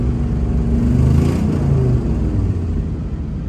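An old farm truck with an exhaust leak revs under acceleration, a loud low rumbling engine that builds and holds, close by and with no talking.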